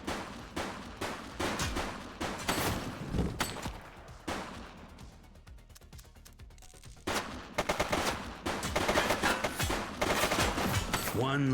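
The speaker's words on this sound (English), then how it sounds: "She's shooting!" Bursts of gunfire from a shooter in The Precinct video game, repeated sharp shots in clusters, loud and close, with a quieter lull in the middle before the firing resumes.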